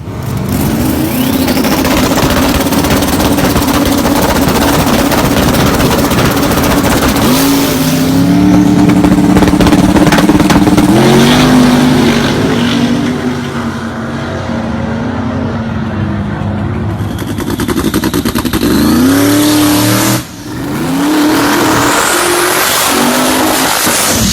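A small-tire, no-prep race car built from a barn find that sat since 1956, its engine revving loud and close in long rising and falling pulls with a brief dip near the end.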